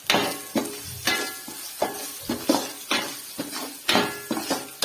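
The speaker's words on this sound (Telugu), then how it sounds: "అల్లం పేస్ట్ కొంచెం పచ్చి వాసన పోయేంత వరకు అలా ఫ్రై చేసుకోవాలి కలుపుతూ ఉండాలి" Ginger paste with turmeric frying in a pan while being stirred: close, loud sizzling broken by steady spatula scrapes and clinks against the pan about twice a second, with no talking.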